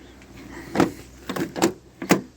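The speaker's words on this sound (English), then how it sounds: "I can't get the door open." Several dull thumps and clunks from a stuck door on a Chevrolet Cavalier RS convertible in a wrecking yard, four separate knocks spread over a couple of seconds, fairly close and moderately loud.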